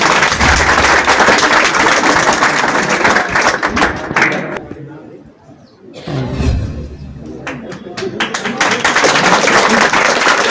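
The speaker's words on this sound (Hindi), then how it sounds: "ताली बजाइए आप लोग इनके लिए।" Audience applause at a ceremony honouring successful computer-class students, dense clapping at first, fading to near quiet mid-clip, then swelling back to steady loud clapping.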